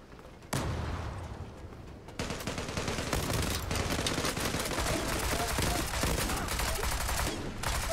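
Rapid gunfire in the video game Zula, dense continuous bursts of shots starting abruptly and rattling on without pause, loud and close, with a voice faintly under the shooting.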